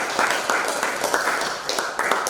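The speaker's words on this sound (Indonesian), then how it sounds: "Tepuk tangan untuk semuanya." Applause for everyone at a school or campus event, with many hands clapping in a dense, steady patter that fills the room without a break.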